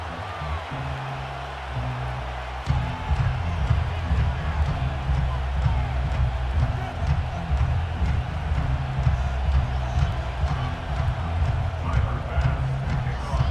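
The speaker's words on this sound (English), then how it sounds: "this crowd is loud and this crowd is ready for a ball game" Roaring stadium crowd ambience from the Madden 25 video game at Highmark Stadium in Orchard Park, New York, a steady loud wash of cheering and murmur under a commentator's talk.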